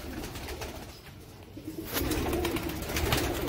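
Sialkoti pigeons in a loft coo softly and repeatedly, their low throaty calls overlapping nearby amid rustling and background noise.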